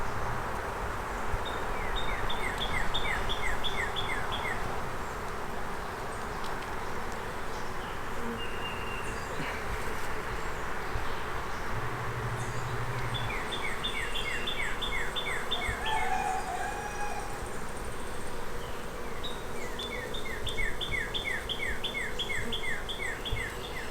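Honeybees drone steadily around an open beehive, a continuous close buzzing, while chirping insects and occasional bird calls come in from further off.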